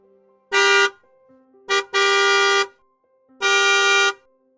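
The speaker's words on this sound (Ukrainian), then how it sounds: "А як сигналить машина?" Three loud car horn honks close by, a longer blast, a quick double toot, then another long blast, with short silences between.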